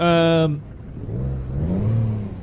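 In American Truck Simulator, a sustained tone gives way to a low 520-horsepower truck engine rumble that rises and falls as it revs, fairly close.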